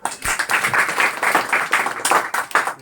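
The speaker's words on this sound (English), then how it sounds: "We are giving a clap for Vipradeep." A classroom of students claps for a classmate during an English grammar lesson on reported speech. The brisk, steady group clapping fills a few seconds on its own, with no voices over it.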